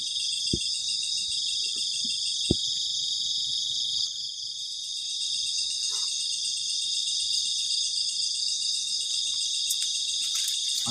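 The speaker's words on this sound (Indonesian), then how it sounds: "ketika malam suara jangkrik itu kenceng banget" Crickets chirp steadily and loudly through the night at a campsite in heavy rain, a dense continuous insect trill filling the background, with a couple of sharp knocks near the start.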